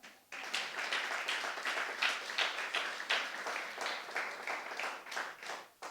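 A church congregation applauding the Lord after a sermon, a steady stream of many hands clapping at moderate loudness, with rhythmic pulses suggesting some people clap in time, continuing unbroken without talk.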